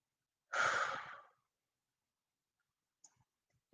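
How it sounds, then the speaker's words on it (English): A person takes a single slow, audible breath, soft and close, lasting under a second, then near silence follows until a brief sound at the very end. "Just breathe in, breathe out."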